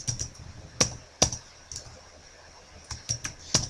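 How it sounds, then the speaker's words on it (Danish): Someone types on a computer keyboard, entering years, a quiet, uneven run of sharp key clicks with a few heavier taps and short pauses between bursts. "så kan jeg bare taste dem ind her, trykke return"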